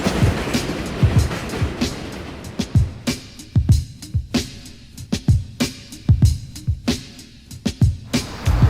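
Rhythmic clattering of a New York City 4 subway train on the tracks, heading to the Bronx, with repeated sharp clicks over a steady low rumble, loud and close throughout.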